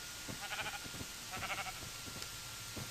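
Sheep bleating in Minecraft, two wavering bleats about a second apart over faint background noise, fairly quiet and close, with a soft thump or step near the end.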